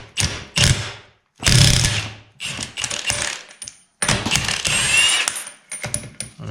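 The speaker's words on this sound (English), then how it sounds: "I absolutely love this impact tool, by the way." A hand impact tool rattles in short, loud bursts against the pinion yoke of a Jeep WK front electronic limited-slip differential, several separate runs of buzzing impacts with brief silent gaps between them.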